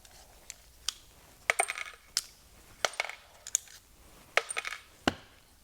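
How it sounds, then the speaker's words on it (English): Small metal screws from a Morimoto MLed 2.0 headlight teardown drop into a box, making a scattered series of sharp, light metallic clinks and rattles, some single and some in quick clusters, close and quiet with no talking. "more screws for the box"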